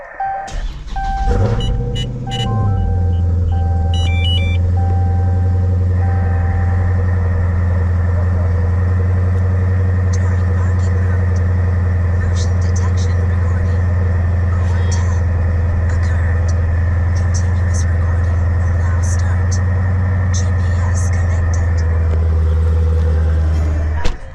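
A car engine cranks and catches, then settles into a steady low idle that hums on evenly for a long stretch.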